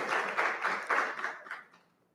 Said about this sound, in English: I think we should give this guy a round of applause.